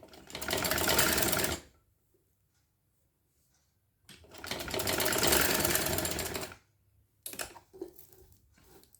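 A sewing machine runs in two long bursts while stitching a shirt collar, a close, fast mechanical whir separated by quiet pauses, followed by a short run with a few clicks.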